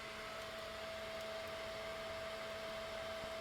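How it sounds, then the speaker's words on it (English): A blower pushes air into a burning brush pile on a snowy day, making a steady, broad whooshing roar with a constant mechanical hum beneath it and no speech. "He's just adding some air with his blower"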